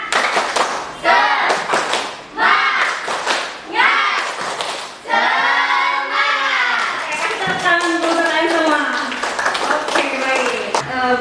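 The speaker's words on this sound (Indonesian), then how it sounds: "Tepuk semangat." Indonesian schoolchildren in a classroom perform a rhythmic spirit clap led by their teacher, loud patterned bursts of clapping mixed with children's chanting voices.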